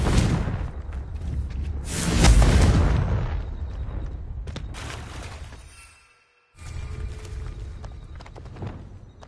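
The Confringo explosion spell cast in Hogwarts Legacy, a loud blast and crackling burst over busy game noise, followed by a sudden drop to near silence and then a return of the noise.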